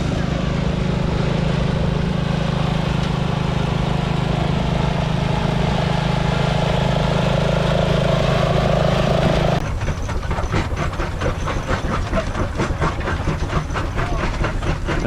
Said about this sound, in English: (1929) Harrison Jumbo, 17 horsepower, pulling a rock crusher.